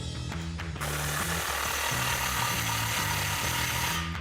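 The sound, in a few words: 15mm socket ratchet tightening Magnaflow exhaust clamp on Jeep Gladiator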